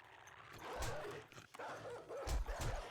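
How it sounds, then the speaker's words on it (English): Dogs barking in the survival video game 7 Days to Die, a few short yips and barks at moderate distance over a quiet background. "Why do I have another dog in here?"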